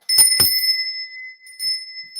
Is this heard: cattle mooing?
no